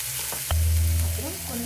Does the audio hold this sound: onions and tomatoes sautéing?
yes